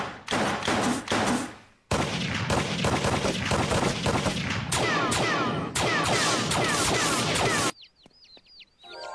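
Gunfire at a cartoon shooting range in Family Guy: loud, close bursts of rapid automatic shots in several long volleys separated by short gaps, ending with a few faint sounds after the firing stops.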